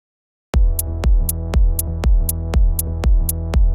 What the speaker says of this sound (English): having like the offbeat closed hi-hat sound